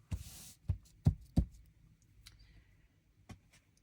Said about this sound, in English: Snip some of this.